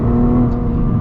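A 2021 Nissan GT-R Premium accelerates hard at full throttle into a corner, its engine a loud, close, steady roar filling the brief moment.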